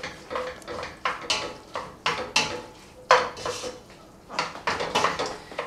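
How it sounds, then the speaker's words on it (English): A spatula scrapes and clanks against a pot as tomato sauce and fusilli pasta are stirred, with a series of sharp metallic knocks and scrapes spaced irregularly through a quiet kitchen. "And then I'm going to stir it up."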